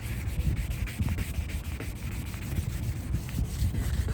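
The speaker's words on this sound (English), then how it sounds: "I'll continue sanding it with wet water." Rhythmic wet sanding of a car headlight lens, a gritty scrubbing stroke repeated back and forth in quick succession, close and steady with no voices.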